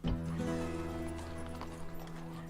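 Horse cavalry galloping in the Barbarian Invasion (Remastered) strategy game, a dense clatter of many hooves with a neigh at the start over a low rumble, continuous and moderately loud.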